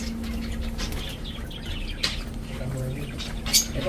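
Caged budgerigars flutter their wings in quick bursts and give short chirps, close and moderately loud, while people talk nearby.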